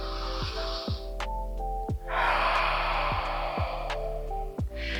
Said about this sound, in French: Une dernière belle respiration.